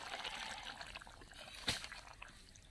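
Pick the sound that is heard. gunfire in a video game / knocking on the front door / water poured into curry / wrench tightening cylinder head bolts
water poured into curry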